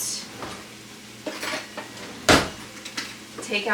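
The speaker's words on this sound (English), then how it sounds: "mix your sauce up in a separate bowl" A utensil scrapes and clinks against a bowl in irregular strokes, with one sharper knock midway, close and moderately quiet.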